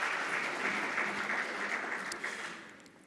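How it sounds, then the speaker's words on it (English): At a Namibian public-private forum, an audience gives sustained, dense applause that stays full throughout and tapers off slightly at the end. "Nonetheless, another round of applause for Menangula."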